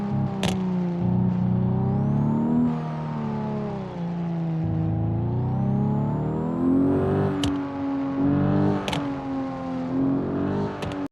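A modded Porsche Cayman race car in BeamNG Drive revs hard and steady, its engine note climbing and dipping through gear changes with a continuous loud whine, close and alone, with no talk.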